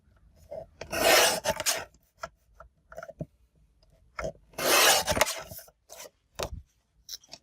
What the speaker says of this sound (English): So I'm just going to cut 2 strips of gold. 2 very thin strips, actually.